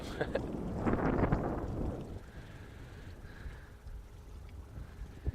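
Wind gusting across the deck of a beluga-watching boat, a loud rough buffeting burst that dies down to a steadier, quieter rush, with a voice talking faintly at times.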